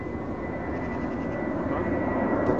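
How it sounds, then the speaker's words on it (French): A paramotor engine drones steadily in flight on an Airtech Mezzo wing, a continuous close buzzing roar with wind noise, no talk. "là tu es obligé de mettre un petit peu de moteur pour monter, vu qu'il n'y a pas de thermique"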